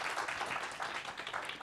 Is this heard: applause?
yes